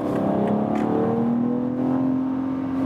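A 510 hp 2020 BMW X4 M Competition accelerates hard uphill to overtake, its engine note climbing steadily in pitch as a smooth, loud, continuous roar from inside the car.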